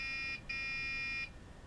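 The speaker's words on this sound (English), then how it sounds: "We'll have to look up what the beep means." A Dell T3500 computer sounds a system error at power-on: a short electronic beep, a brief gap, then a longer sustained tone, loud and close against a quiet background.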